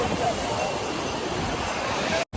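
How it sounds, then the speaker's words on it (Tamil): Sea waves wash in at Marina Beach in Chennai, a steady broadband roar of surf close to the microphone with wind noise, cutting off briefly near the end. "பயங்கரமா தண்ணி வருது."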